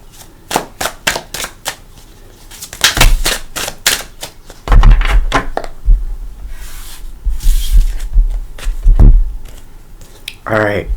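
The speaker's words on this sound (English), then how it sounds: "I think I'm going to shuffle." Tarot cards are shuffled at close range in a series of sharp riffling bursts and soft slaps, with uneven pauses between them, under a low murmur of room noise.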